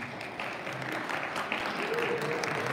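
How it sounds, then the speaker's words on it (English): A town hall audience at a community board meeting applauds the district manager, with steady, moderately loud crowd clapping filling the short stretch and a faint voice underneath. "I really want to give more applause for our district manager"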